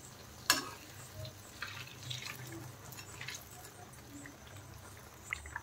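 Dhuska, the traditional Ranchi fried bread, bubbles in hot oil in a pan, a soft steady sizzle with a sharp clink near the start and occasional light scrapes.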